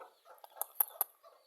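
Native Bangladeshi village chickens with a local rooster, several sharp close clucks in a quick run of three, with softer low clucking around them and no one talking.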